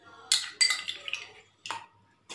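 A metal spoon clinks against a vessel while stirring salt and curd into water, a few bright, close scraping clinks in short bursts separated by quiet pauses.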